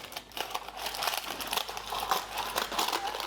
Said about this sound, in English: I'm going to trim off a little bit of the parchment paper